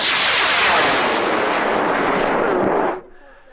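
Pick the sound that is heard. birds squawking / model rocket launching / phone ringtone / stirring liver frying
model rocket launching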